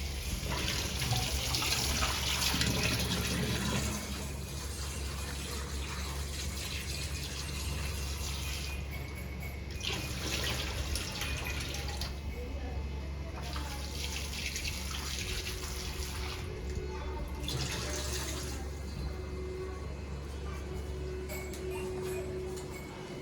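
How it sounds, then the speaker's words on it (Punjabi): Two kilograms of plums being washed in clean water, a steady running, splashing wash with clattering handling throughout, fairly close and continuous with no talk. "ਇਹਨਾਂ ਨੂੰ ਚੰਗੀ ਤਰ੍ਹਾਂ ਸਾਫ਼ ਕਰ ਲਾਂਗੇ ਤਾਂ ਸਾਫ਼ ਪਾਣੀ ਤੋਂ ਧੋ ਲਾਂਗੇ"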